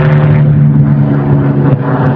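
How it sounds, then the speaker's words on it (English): A helicopter passes overhead above a large open park in London, its steady low rotor drone loud and continuous throughout, with no talking. "Sorry, let the helicopter pass by."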